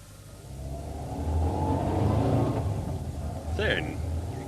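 A duty car pulls away as a radio drama sound effect, its engine rising to a rumbling rev and fading under the scene, with a brief faint squeak near the end; no talk.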